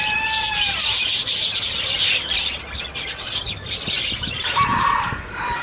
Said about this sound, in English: there's canaries over here